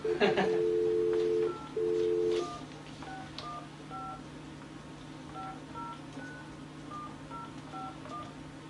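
Two long steady tones at the start, then a quick string of short telephone keypad beeps in an uneven rhythm over a low background hum.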